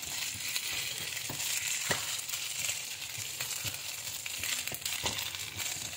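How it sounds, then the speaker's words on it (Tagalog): Minced pork and shallot onion frying and being stirred in a pan, with steady sizzling and intermittent scraping taps of a utensil throughout. "durog-durogin natin yung minced pork sa onion"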